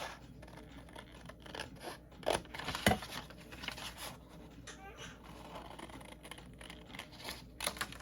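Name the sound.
scissors cutting paper for junk journal page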